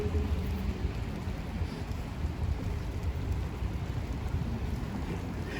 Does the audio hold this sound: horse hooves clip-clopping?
no